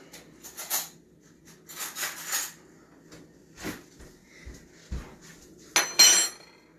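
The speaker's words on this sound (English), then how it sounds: "I gotta quick get a spoon so I can stir." Spoon scraping and clinking against a bowl while stirring ingredients for a spiralized zucchini dish, in scattered bursts of rubbing and light clatter with short pauses, ending in a brighter metallic scrape.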